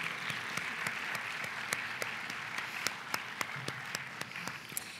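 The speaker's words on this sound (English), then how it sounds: "Let's give them a round of applause también." Teachers and staff at a gathering receive applause, a soft, fairly distant patter of clapping with a few sharper individual claps standing out, steady throughout.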